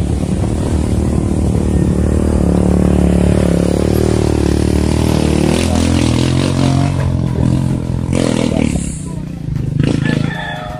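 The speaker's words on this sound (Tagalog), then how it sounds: "Motor tricycle." A motor tricycle's engine drones loudly nearby, rising and rumbling as it passes, with voices faintly mixed in toward the end.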